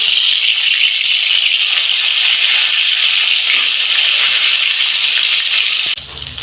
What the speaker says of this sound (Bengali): তেল গরম হয়ে গেছে মাছটা ভেজে